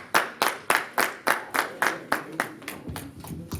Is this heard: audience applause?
yes